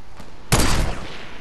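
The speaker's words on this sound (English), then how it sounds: "Dr. Lupo is really good at sniping" A sniper rifle shot in Fortnite, one sharp, loud crack with a broad burst that decays over about half a second, close and alone.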